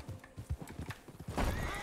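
A horse in the Red Dead Redemption 2 game world gives a short whinny among clopping hooves, fairly close and moderately loud, the neigh rising near the end of the brief moment.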